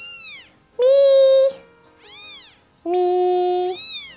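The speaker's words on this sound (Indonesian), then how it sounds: "Anak-anak kucing itu jadi ribut" Cartoon kittens meowing, high, drawn-out mews alternating with longer, louder cries in a quick back-and-forth, close and clear with no talking over them.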